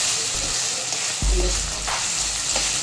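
Tomatoes sizzle and fry in a karahi pan for beef karahi, a steady close hiss with a few sharp stirring knocks and scrapes of the spoon.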